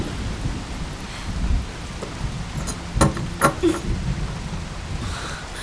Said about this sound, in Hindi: ये क्या इतनी बारिश में?